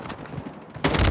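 Gunfire in the Call of Duty video game, a quiet rumbling stretch giving way to a sudden loud burst of close shots and impact noise in the final moments.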